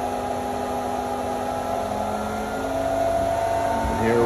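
A Putzmeister concrete pump running strokes in reverse, a loud steady mechanical drone with humming engine tones, rising slightly toward the end with a brief clunk.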